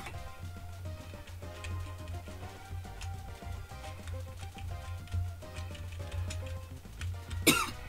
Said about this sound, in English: I'm coughing, bro. My throat is mad dry.